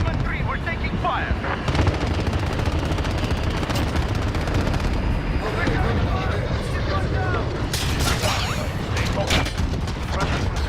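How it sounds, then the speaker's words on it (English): Dense automatic gunfire and explosions fill Call of Duty: Modern Warfare combat, a loud continuous barrage with rapid bursts and booms, while soldiers shout radio calls over the top. "This is Horseman 3, we're taking fire."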